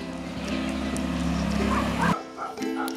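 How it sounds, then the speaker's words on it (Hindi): A dog barks continuously out on a morning walk on a misty day, with steady yapping close by over a constant low hum and other ambient noise. "आवाज़ है ये कंटिन्यूसली जो भौंकने की आवाज़ आ रही है"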